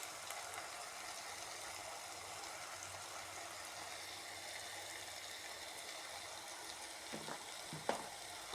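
Garlic powder and spices frying in a pan for a Kerala-style fish curry, heard as a soft, steady sizzle with a few faint clicks and scrapes near the end.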